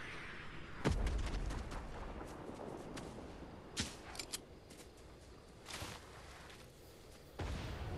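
A rocket is launched and explodes in a multiplayer shooter video game, heard as a sharp blast near the start followed by scattered booming impacts and crackling gunfire over a steady ambient rumble, with no talking.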